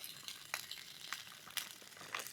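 Rice frying in a pan outdoors in the hills, a soft continuous sizzle with quick crackles and stirring scrapes, close but fairly quiet, no voices.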